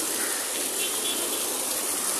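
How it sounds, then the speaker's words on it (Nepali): Heavy rain pours down steadily in Nepalgunj, a dense, constant hiss of water filling the whole scene without a break and no voices over it. "पुरै पानी लास्टै परिरहेको छ। यो पानी यति धेरै बाहिर छर्किरहेको छ"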